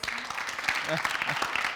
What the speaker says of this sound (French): Merci, on va l'applaudir.